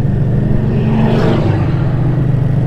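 A 5.7 Hemi V8 engine revs loudly and close by, a throaty mid-pitched drone that swells briefly in the middle and then holds steady.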